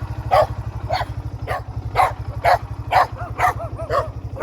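A dog barks repeatedly at a steady pace, about nine sharp barks, close and loud, over a constant low engine-like hum from a vehicle.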